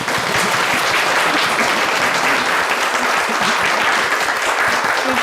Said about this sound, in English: please give a big applause to our children